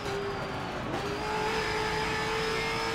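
A Ford race car engine in Forza 7 holds a loud, steady high drone, with a quick gear change about a second in, then pulls on at near-constant pitch with no voices over it.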